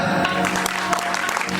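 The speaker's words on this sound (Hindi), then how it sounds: "तालियां" An audience at a Bollywood musical night, during a poetry recitation, claps in steady, dense applause that carries on without a break for the whole moment.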